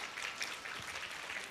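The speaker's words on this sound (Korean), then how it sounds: "박수요." Brief patter of audience clapping at a science festival talk, faint and distant in a large room, a short burst of scattered hands with no voices.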